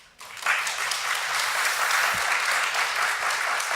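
A church congregation at a Friday late-night prayer meeting breaks into applause, a dense, sustained wash of many hands clapping that swells quickly and holds steady to the end.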